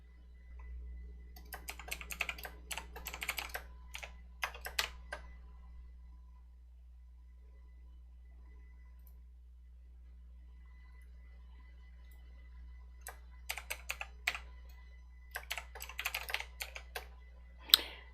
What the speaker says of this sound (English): Trust me, I'm typing the labels in because that window doesn't actually show.